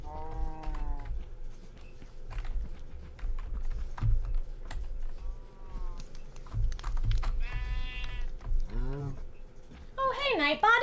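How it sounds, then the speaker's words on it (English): Farm animals bleating and mooing in a video game, several short wavering calls scattered over a low steady hum with a steady ticking of keys, ending in a loud burst of overlapping cries. "You are a sheep."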